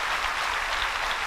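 Audience applause at a live evening talk in Brazil, a steady, dense wash of clapping filling the whole short stretch at an even loudness with no voices on top.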